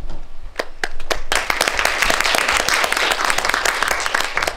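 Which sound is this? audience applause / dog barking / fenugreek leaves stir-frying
audience applause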